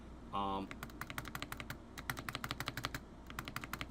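Typing on a Razer Huntsman 65% HE keyboard, rapid crisp key clacks in an uneven rhythm heard up close, after a brief tone at the start.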